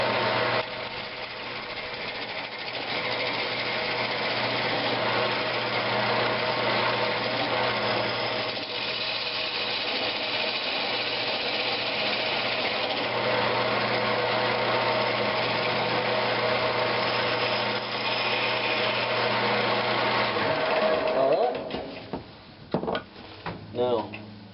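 A wood lathe spins pecan wood while a tenon is cut, a steady motor hum with a rough cutting texture that runs for about twenty seconds, then winds down near the end.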